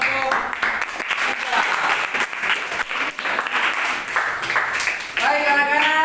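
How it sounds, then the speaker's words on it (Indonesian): A class of schoolchildren applauds a student group after its discussion presentation, a dense, steady clapping that fills the room for several seconds and swells again near the end. "Kita berikan aplaus untuk kelompok"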